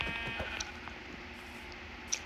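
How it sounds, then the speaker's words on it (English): Sheep bleating in the Minecraft video game, a few short blocky calls standing out over steady game background sound, fairly faint with no talking. "Hey, a sheep."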